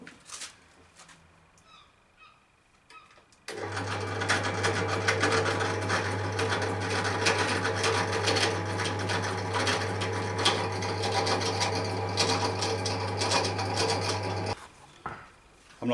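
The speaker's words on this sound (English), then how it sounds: "So I'm going to drill this now on the drill press" After a few quiet clicks, a drill press starts up with a loud, steady motor hum and grinding as it bores, running continuously before stopping.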